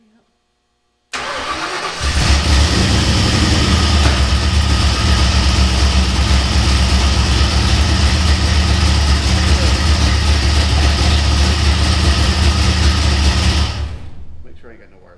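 A freshly built Ford 302 V8 in a 1957 Fairlane fires up after a brief crank and settles into a loud, steady, rumbling idle close by, then shuts off near the end; a voice speaks one short word.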